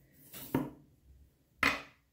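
Tsunehisa SRS13 210mm Japanese steel kitchen knife slicing through food, two short, faint cutting strokes with a soft contact knock, close and quiet with near silence between them.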